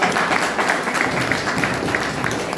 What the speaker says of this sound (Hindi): एक बार हम चाहेंगे कि उनके लिए जोरदार ताली